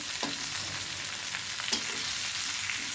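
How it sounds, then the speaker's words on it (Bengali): Salted onions frying in oil, a dense, even sizzle throughout with a few faint stirring taps, near and steady with no voices. "লবণ দিয়েছি ভেজে নেবো আগে পেঁয়াজগুলো"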